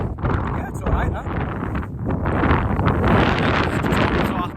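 Strong wind buffets the microphone continuously on a cold mountain evening at Sprinkling Tarn in the Lake District, a loud broadband roar that fills the whole clip.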